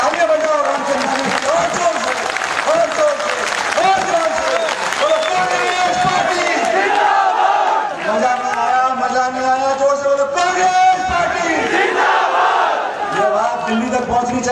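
A crowd at a Congress party election rally in Biaora claps and cheers loudly and continuously, with shouts and voices mixed into the dense roar.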